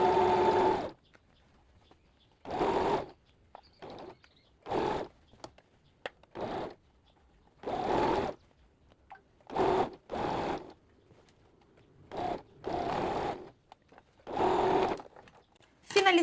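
A sewing machine stitches a sleeve into an armhole in repeated short bursts of whirring, each lasting about a second, separated by quiet pauses; close and clear.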